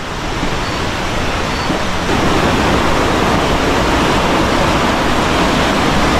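Waterfall at Dingalan, Aurora, a constant, loud, close rush of falling water that holds steady and swells slightly partway through, with no voices.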